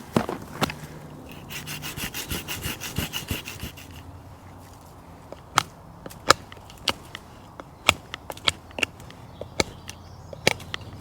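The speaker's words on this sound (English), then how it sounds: "Just a bit of pruning, that's all we're doing." A hand saw cuts wood while branches are pruned outdoors. Quick rhythmic strokes at first give way to scattered sharp snaps and cracks of wood, close by.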